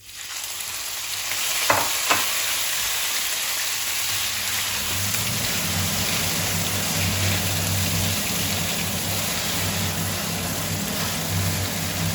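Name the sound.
pork frying in hot oil in a wok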